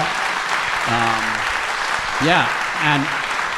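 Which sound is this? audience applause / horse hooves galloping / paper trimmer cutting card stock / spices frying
audience applause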